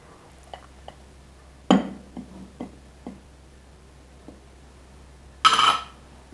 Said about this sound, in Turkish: Şimdi kavanozumu alıyorum ve direkt güneş ışığına maruz kalmayacak şekilde tezgahımda bir köşeye bırakıyorum.